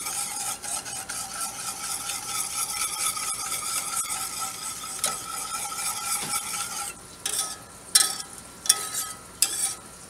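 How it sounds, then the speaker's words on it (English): A steel whisk stirs sauce in an enamel-coated cast iron pot, a steady scraping and swishing that runs continuously before breaking into a few louder, separate scrapes and clinks. "I'm using a steel whisk inside of a, enamel coated cast iron"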